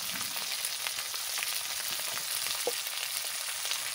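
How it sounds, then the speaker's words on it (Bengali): Masala spices fry in a pan for a pangasius fish curry, giving an even, moderately quiet hiss and crackle with occasional faint stirring scrapes. "মশলাটা একটু ভালো করে ভেজে নেব।"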